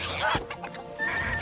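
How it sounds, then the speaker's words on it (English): Cartoonish chickens cluck in the mobile card battle game South Park: Phone Destroyer, giving a couple of short, close clucking calls. "and then we have all these chickens to deal with."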